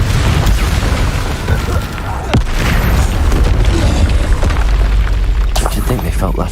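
A Confringo blasting spell in the Hogwarts Legacy game sets off loud, deep explosive booms with crackling debris, steady and forceful throughout, while a voice speaks over them.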